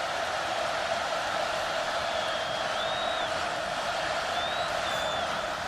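Loud, steady roar of a packed stadium crowd at a 2017 college football game between Georgia State and Penn State at Penn State, a dense wash of noise with no letup and occasional faint whistle-like tones riding on top.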